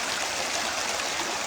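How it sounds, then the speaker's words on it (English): Stream water tumbling over stones in a West Coast nature setting, a steady, full rushing wash with no breaks, close and fairly loud throughout. "what it must feel like just tumbling over these stones, just going and going."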